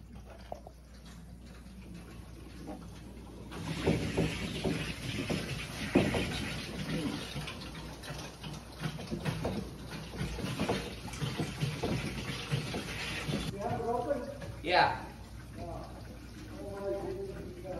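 Water rushes steadily through newly installed plumbing in a shop and ADU, a broad continuous flow that starts abruptly and holds loud and close, with people talking over it and a brief higher splash near the end.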